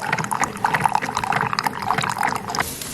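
Coffee pours into a favourite mug in a home kitchen, a steady liquid trickle with light splashing that stays fairly close and even in level from start to finish.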